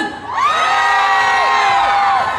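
A concert crowd at an outdoor Zhongyuan festival show at a temple in Zhongli screams and cheers loudly and continuously, with shrill, sustained voices swelling after a brief quiet start and holding steady to the end.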